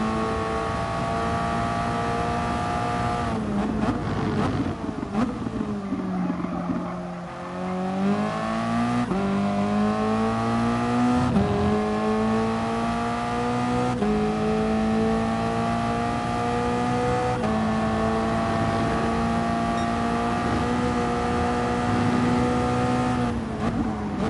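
A Toyota race car engine in a racing video game drones continuously, revving up and down through gear changes as the car works through corners, loud and steady with no talk over it.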